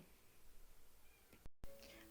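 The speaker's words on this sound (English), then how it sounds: "You might hear my cat meowing because she's not in my room right now" A pet cat meows faintly from outside the room, a few soft, muffled cries against a quiet indoor background.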